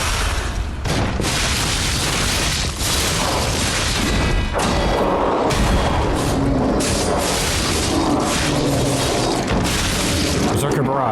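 In the action game Lies of P, a Berserker Barrage attack lands as a loud, dense run of heavy booms, crashes and thuds, with layered combat noise throughout.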